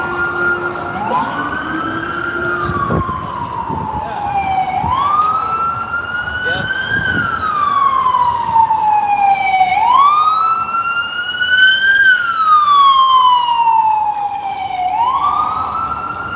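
Police car sirens wail loudly and close by in a long, rising and falling sweep that repeats for the whole stretch, with a second siren tone overlapping at the start.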